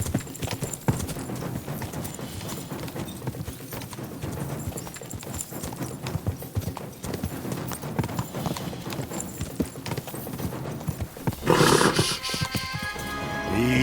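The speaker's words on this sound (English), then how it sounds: "Easy, good horse." Horse hooves clip-clopping at a steady pace in Kingdom Come Deliverance 2, close and continuous for most of the stretch, ending in a louder burst that may be a whinny.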